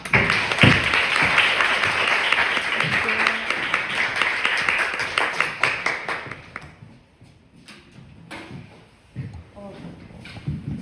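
An audience at a memorial lecture applauds to welcome a lecturer, with dense clapping for about six seconds that thins to a few scattered claps and then fades out.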